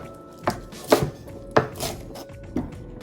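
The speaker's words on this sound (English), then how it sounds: "I'm going to cut down the middle 3 times, turn to the side, and chop across" A knife chops greens on a cutting board in five distinct, sharp knocks at an uneven pace, close and clear with a quiet room behind.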